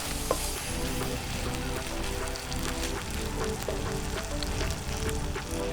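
Potatoes and chorizo frying in a pan over a butane stove, a steady dense sizzle with crackling pops throughout, fairly loud and close, no talking.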